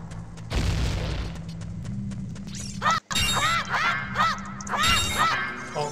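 A bomb goes off in Zelda: Ocarina of Time in King Dodongo's level, giving a short booming burst followed by chirpy game sound effects, with a brief dropout midway.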